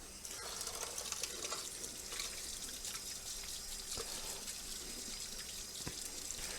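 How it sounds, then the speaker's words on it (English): Steady rush of running tap water over hands at a sink, continuous and fairly close, with a few faint clinks and no talking. "Let me wash my hands for a second."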